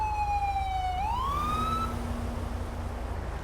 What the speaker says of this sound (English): especially with that siren going on in the background